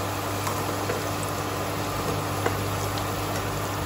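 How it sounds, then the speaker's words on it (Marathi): Methi muthiya, Gujarati fenugreek dumplings, deep frying in hot oil until golden brown, giving a steady, dense bubbling sizzle that holds close and even throughout with no voices. "मुठ्या आपल्याला गोल्डन ब्राउनिश कलर होईपर्यंत या मुठ्या तळून घ्यायच्या आहेत"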